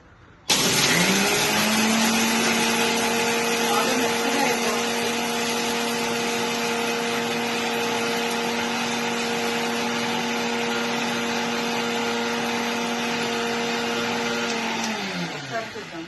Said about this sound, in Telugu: వీటిని మెత్తగా గ్రైండ్ చేసుకోవాలి.